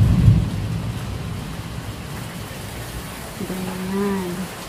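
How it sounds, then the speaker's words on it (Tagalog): Rain falls steadily outdoors while tending a hanging succulent basket, with a low thunder rumble at the start and a faint tonal call near the end. "Umuulan."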